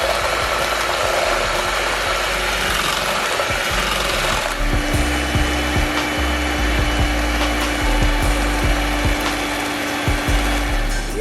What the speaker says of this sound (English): I'm gonna mix the double stuff in there